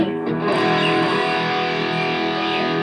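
Electric guitar chords ring out through a Boss Metal Zone distortion pedal, thick and fuzzy with a hollowed-out midrange, sustained and loud with no voices.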